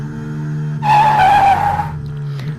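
An AlphaTauri Formula 1 car in a racing video game at Bahrain, with a steady engine drone and a louder high-revving whine that swells for about a second before settling back to the drone.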